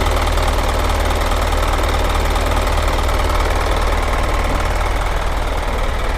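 Isuzu FRR210 dump truck from 2020 fitted with a crane, its diesel engine running loud and close under throttle control, a dense continuous rumble with a steady knocking pulse and no talk.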